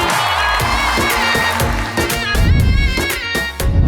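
A studio audience applauds and cheers to welcome Malkoo and Samrana Shah onto the Suno To Sahi show. The noise is loud and dense, with sharp bursts and music-like tones mixed in.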